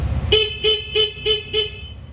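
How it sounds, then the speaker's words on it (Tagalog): A car horn honks five times in a steady rhythm, short bright toots evenly spaced, close and loud over a low engine rumble. "Then, busina."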